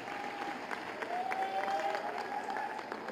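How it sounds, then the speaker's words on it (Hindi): A crowd at a village rally claps to welcome the chief minister, Yogi Adityanath, with moderate, continuous applause that sounds somewhat distant, under a faint tonal hum. "जोरदार तालियों के साथ उनका अभिनंदन करें"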